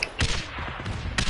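Sniper rifles crack out in a PS4 video game battle, two sharp, loud reports about a second apart amid rumbling in-game combat noise.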